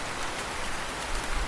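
Steady cartoon rain, a dense, even hiss of falling drops with no pauses, fairly soft and alone without any voices.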